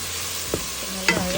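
Tomato and onion with salt sautéing in a pan, a soft continuous sizzle broken by a couple of brief stirring scrapes, close and without talk.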